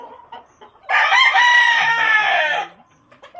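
A gamefarm rooster at San Jose, San Isidro, Leyte crows once, loud and close, a long bright call lasting nearly two seconds, with quieter clucks and faint background sounds before and after.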